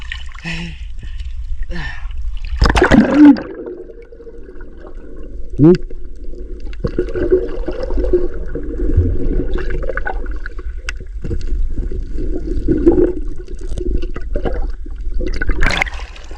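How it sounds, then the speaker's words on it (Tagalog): Rough sea waves wash and splash around a small boat while crab traps are hauled, loud surging water with bursts and knocks, and someone speaking over it. "Maalon na mga idol. Lakas na yung alon."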